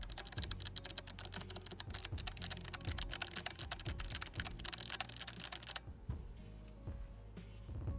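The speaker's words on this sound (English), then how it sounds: "What do you think of that keyboard?" Rapid, loud clattering keystrokes on a computer keyboard fill the space up close, a dense irregular stream of clicks that suddenly thins out toward the end, with no one speaking.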